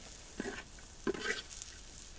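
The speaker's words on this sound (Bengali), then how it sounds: "আমি একটু লাড়াচাড়া দিয়ে দেই একটুখানি হয়ে গেছে" Leafy greens stirred in a pan of oil, with two brief, quiet scraping strokes over a faint, low sizzle.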